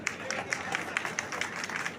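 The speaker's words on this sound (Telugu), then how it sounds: "చప్పట్లు కొట్టండి" Audience at a Warangal party membership gathering in Radha Krishna Gardens clapping on request, a busy, steady patter of many hands at moderate distance over crowd murmur.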